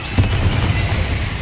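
A Confringo blast spell explodes in the Hogwarts Legacy video game: one sharp burst, then a dense, rumbling low roar that stays loud through the rest of the moment.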